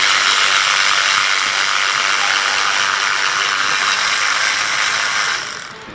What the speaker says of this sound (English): take my ratchet to get the bottom one the rest of the way out